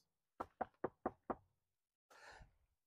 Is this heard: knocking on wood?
yes